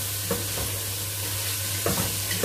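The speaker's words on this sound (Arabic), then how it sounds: "كده اللحمه اتشوحت معايا وخدت لونها" Meat sears and fries in a pot with a constant crackling sizzle and a few brief stirring scrapes, close and steady.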